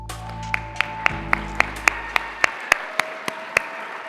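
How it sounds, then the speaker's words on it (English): Applause for a county tourism director at a women's awards event comes through as a steady run of slow, evenly spaced single claps, fairly close, over a faint tonal hum. "A big round of applause and congratulations to Shanna Mehmet"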